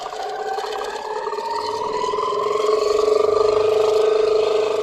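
Longarm quilting machine (Moxie XL) running in manual mode for thread-painting design work, a steady whirring motor hum rising slightly in pitch and speed, loud and continuous for the whole stretch.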